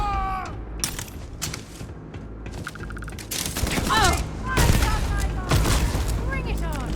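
Video game gunfire in Starfield, rapid bursts of sci-fi weapon shots with booms and mechanical effects, loud and continuous, mixed with shouting voices.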